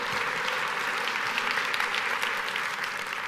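Steady applause from an audience of about 450 administrators at a Las Vegas company keynote, a dense continuous clatter of clapping filling the room for several seconds with no voices.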